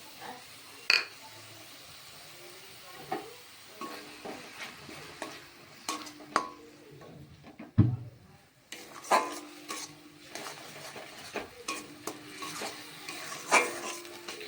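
Tomato paste with ginger-garlic paste being stirred in a cooking pan for begun sundari, a quiet sizzle under repeated spatula scrapes and metallic clinks against the pan, some clustered and some spaced out.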